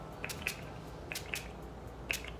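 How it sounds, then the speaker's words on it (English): A bottle of Mario Badescu rose water face spray gives several quick, faint spritzes in small pairs, each a short hiss over a quiet room. "I'm just going to set my face with this Mario Badescu Rose Water Face Spray"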